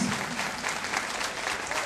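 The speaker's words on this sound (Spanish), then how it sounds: "Un aplauso para los jóvenes danzarines" An audience at a political event applauds young dancers, with steady, dense clapping from a crowd sustained throughout.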